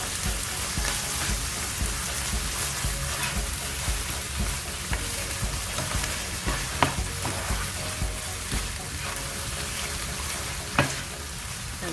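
Corned beef frying in a pan with browned garlic sizzles loudly and continuously, a dense rain-like crackle with a few sharp spatters and utensil knocks along the way.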